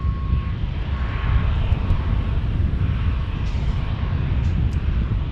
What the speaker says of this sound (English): here comes the 757, the 300 from Atlanta